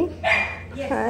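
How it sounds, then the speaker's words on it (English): A freshly groomed, fluffy doodle puppy gives a short bark or yip at close range, mixed in with a woman's high, cooing voice. "Look at that puppy."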